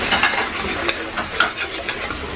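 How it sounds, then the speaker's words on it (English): Beef sizzles and fries in sauce in a wok, with a spatula stirring and scraping the metal in quick, irregular strokes, close and fairly loud. "Give it a quick fry in the sauce, let it get evenly coated."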